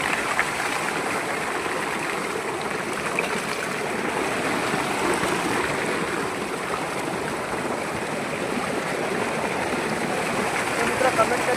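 Water pours steadily from a bore well at a farm, a continuous broadband rush that holds constant throughout at moderate loudness, with no talk over it.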